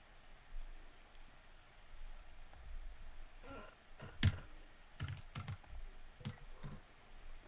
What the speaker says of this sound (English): He's typing it in.